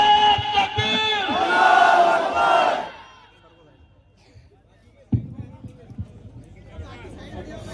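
A large crowd at a political rally roars a loud, unified chant in reply to a shouted slogan, lasting several seconds before dying away, followed by renewed murmuring and scattered voices.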